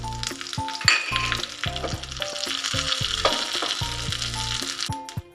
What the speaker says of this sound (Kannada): ಸ್ವಲ್ಪ ಕರಿಬೇವು, ಎಲ್ಲವನ್ನು ಸೇರಿಸ್ಕೊಂಡು ಒಗ್ಗರಣೆ ಕೊಡೋಣ.